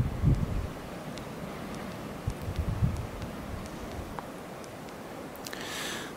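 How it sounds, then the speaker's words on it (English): Steady wind buffets the microphone with low rumbling gusts on a stormy height, strongest at the start, over a faint outdoor background. "Oh, it's windy."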